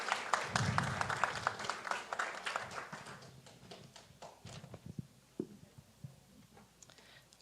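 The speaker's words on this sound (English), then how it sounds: "A very big applause for Emilia" Applause from the audience at a Falling Walls Lab Ecuador event, fairly loud at first and then thinning into scattered individual claps that fade out toward the end.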